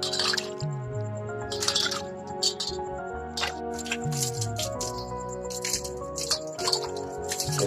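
Kitchen items being washed in water, with intermittent drips, squishes and small clattering knocks, close and fairly quiet, under someone speaking and other voices.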